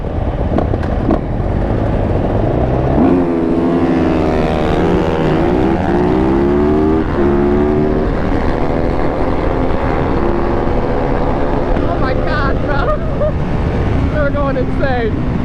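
450cc dirt bikes race past at close range, engines revving hard with rising and falling pitch as they accelerate and shift, loud and continuous throughout with no clear talking.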